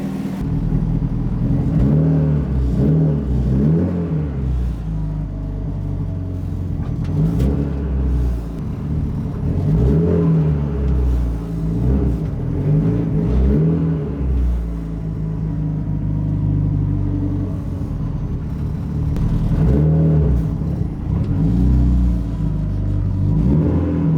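A fully built Mitsubishi Evo 9 engine runs loud and close with a deep rumble, rising and falling through repeated revs over a steady idle.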